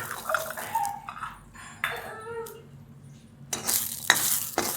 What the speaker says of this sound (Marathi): तेल टाकून चांगलं भाजून घेते पावट्याच्या शेंगा